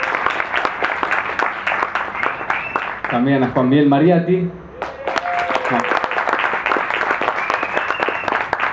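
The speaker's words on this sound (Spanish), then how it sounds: "Un aplauso para él" An audience at an open electronics workshop applauds with steady, crisp clapping that runs throughout, briefly thinning while someone speaks over it near the middle.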